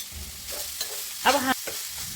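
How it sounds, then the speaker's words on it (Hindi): Spoon stirring grated radish with green chillies frying in ghee for a paratha filling, soft scraping strokes over a low sizzle, one louder clattering stir near the middle, no talk. "अब हमने चम्मच से मूली को अच्छे से ही मिक्स कर लेना है"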